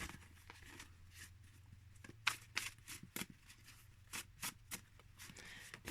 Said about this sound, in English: I think these shuffle fine. I just have to get used to overhand shuffle.